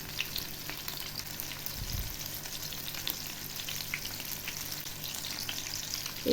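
Pomfret fish coated in masala and rice flour frying slowly on a low flame, a steady gentle sizzle and crackle that holds even throughout, close by with no voices.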